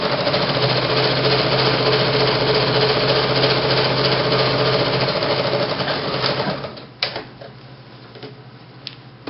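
A sewing machine stitching the edges of a dress runs in a steady, loud, fast whir for about six seconds, then slows and stops, followed by a few faint clicks and handling sounds.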